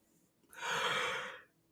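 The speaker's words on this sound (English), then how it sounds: "Anybody else yawn?" A person lets out a single, soft, breathy yawn lasting about a second, rising and fading in a quiet room with no talk.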